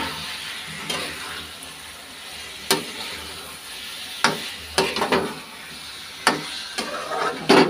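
Garlic and onion fry in a pan for prawn shukto, giving a soft, steady sizzle broken by sharp clinks and scrapes of a utensil stirring at irregular intervals.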